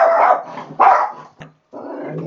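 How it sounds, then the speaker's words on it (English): Dogs bark and growl in short, loud bursts, a couple of rough barks followed by a brief yip and then a lower sustained growl, close by with no talk over them. "They're dogs and they're dumb. They bark."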